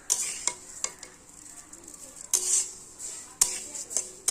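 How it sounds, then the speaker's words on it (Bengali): Moong dal toasting until reddish in a pan, with a soft steady sizzle and sharp scrapes and clinks of a utensil stirring against the metal at irregular intervals, close up, no talking. "মুগ ডালটা আমি লাল করে ভাজা করে নিলাম।"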